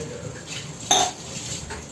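Kitchen pots and utensils set down after washing up, giving one clear clatter at the midpoint amid faint background room noise; no one speaks.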